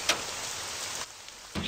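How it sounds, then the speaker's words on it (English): Steady rain hisses in the video game Cardiophobia, a dense, even wash that briefly thins before swelling again, with a soft thump near the start. "Halfway home it started raining, but I couldn't be bothered to run. The rain calms me."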